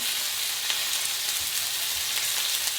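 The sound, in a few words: chicken frying in a pan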